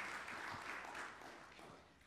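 Audience applause at a medical research conference parallel session, a brief dense wash of clapping from a room of people, quiet and steady, fading slightly at the end.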